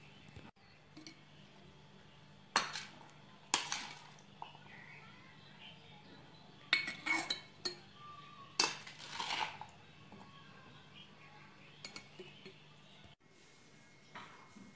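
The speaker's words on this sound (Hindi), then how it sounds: "तो ये देखिए यहाँ पर मैंने अचार बर्नी के अंदर निकाल लिया है" Spoon scooping mixed vegetable pickle in oil into a small jar, with a few sharp clinks and scrapes against glass and soft wet shuffles, close but quiet with pauses between.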